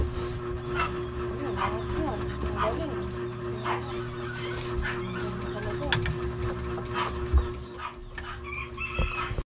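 A dog barks intermittently among roosters crowing and hens clucking, with people talking in the background of a busy yard.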